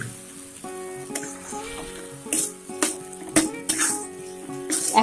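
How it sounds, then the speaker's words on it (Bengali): Taro (kochu) leaves drop into hot oil for tempering, setting off bursts of close, crackling sizzle that recur and build over a faint steady background tone. "বাগারের জন্য শাকগুলোকে আমরা ঢেলে দিচ্ছি।"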